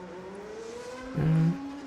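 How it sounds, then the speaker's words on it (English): A Formula 1 car engine in the racing game F1 2013 starts up with a brief, loud rising burst over a steady low engine drone, then settles back to the hum. "Someone else is also leaving, seems like, or I can hear the engine starting up."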